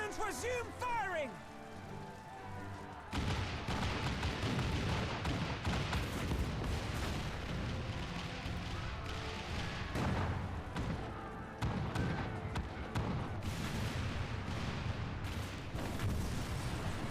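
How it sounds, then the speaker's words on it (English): Cannons fire in a Final Fantasy XIV Stormblood battle, a dense run of booming, crackling blasts that goes on steadily and loud after a quieter start with a voice over it. "Cannons, resume firing!"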